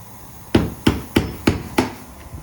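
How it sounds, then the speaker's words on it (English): Five evenly spaced hammer blows ring out against the metal tabs of a Chevy Avalanche fuel tank, each a sharp, close strike with a short ringing tail, then quiet. "We'll keep working. Our hammer blows around each tab."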